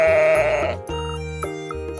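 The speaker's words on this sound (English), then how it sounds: "The correct answer is sheep." A single sheep bleats loudly and up close, a wavering, drawn-out baa followed by a second shorter call, standing alone with no voices.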